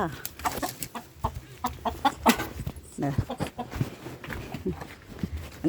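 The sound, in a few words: chickens clucking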